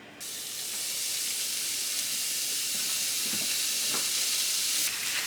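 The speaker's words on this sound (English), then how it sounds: "I have seared all sides of the meat" Meat coated in vegetable oil and salt and pepper sears in a hot pan, giving a loud, steady frying sizzle that holds evenly throughout with a few faint stirring clinks.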